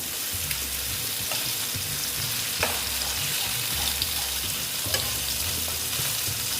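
Koi fish frying in hot oil in a home kitchen for a Bengali koi macher jhol, giving a steady, close crackling sizzle with a few faint clicks of stirring, and no voices.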